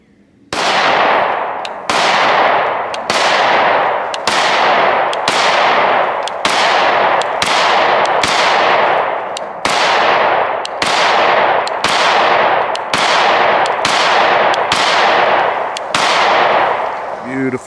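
Canik MC9 pistol firing 124 grain rounds outdoors, about fifteen loud sharp shots in a steady rapid string, each with a ringing decay.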